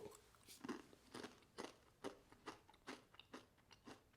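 A child crunching and chewing Sun Chips snack chips, with a steady run of close, rhythmic crisp bites and crunches.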